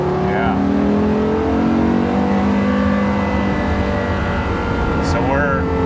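A Porsche Carrera GT on the move, its engine droning steadily from inside the cabin with a couple of brief gear-change whoops, while people talk over it.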